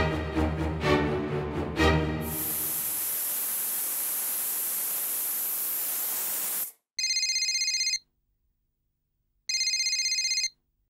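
A telephone rings in two short, loud electronic bursts separated by silence, following a stretch of hiss and static, with no talking over it.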